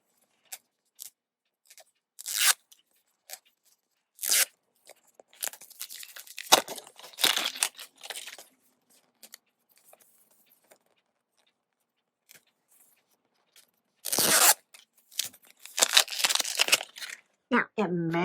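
Small toy packages for dolls being torn open, with scattered bursts of ripping and crinkling plastic or paper separated by quiet pauses, and a denser tearing flurry near the end.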